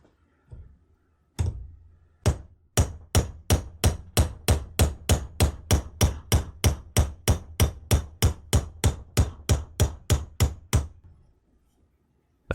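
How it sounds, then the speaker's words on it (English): Steady, rhythmic metal hammer strikes on a punch driving a pin out of a black powder revolver, about two per second, ringing sharply and close up for around ten seconds, then stopping. "I'll give it a try with the punch now that some pressure's been relieved."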